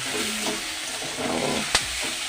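Onions frying in a pan for a fish curry give a continuous, dense sizzle up close, with a single sharp stir or scrape near the end.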